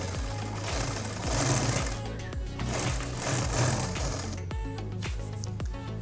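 A sewing machine runs in steady bursts while stitching the neck edge of a summer night gown, a loud, close mechanical whir that swells and eases over several seconds before stopping, with no talk.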